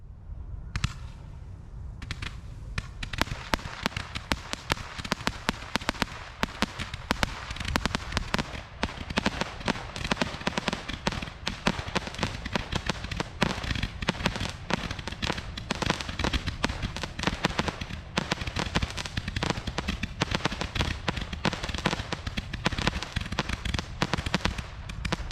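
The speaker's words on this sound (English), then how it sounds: "you get 10 Barrage Candles for a total of" A dense, continuous barrage of low to mid-grade consumer firework candles from Red Apple Fireworks, ten candles totaling 2,800 shots, crackling and popping rapidly for over twenty seconds after a brief quieter start, loud and relentless with no talk.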